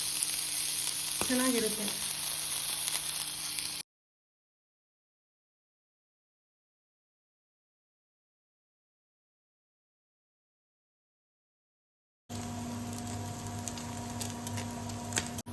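Paneer frying in butter on a hot tawa, a steady close sizzle that runs for a few seconds, breaks off into silence, then returns with brief talk over it.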